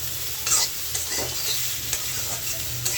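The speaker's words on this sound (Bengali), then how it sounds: "লাল লাল করে ফুলকপি আলুটা ভাজি করে নিচ্ছি" Cauliflower and potato pieces sizzle in hot oil while being stirred, a close steady fry with small scraping taps from the stirring, no voices.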